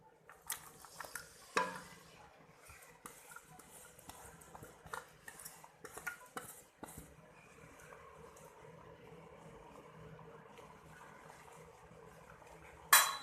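Onions sizzle gently in ghee in a pot for a vegetable pulao while a utensil stirs and clinks against the metal. Louder scrapes and knocks come at the start and the end, and no one speaks.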